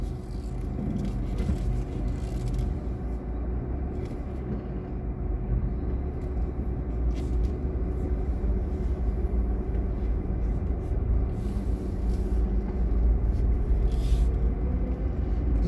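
Interior engine and road noise from a manual-transmission car on the move, a steady low rumble and hum filling the whole stretch with no speech.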